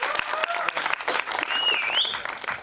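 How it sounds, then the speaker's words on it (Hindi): An audience at a film trailer launch event claps enthusiastically, a dense continuous applause with a few whistles and cheers rising over it. "जोरदार तालियां लेडीज एंड जेंटलमैन इनके लिए"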